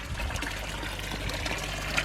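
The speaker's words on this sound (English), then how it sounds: "I've got a cast iron water feature." Water trickling steadily from a rusty cast iron water feature into a koi pond, a soft continuous splash and dribble heard close up on its own.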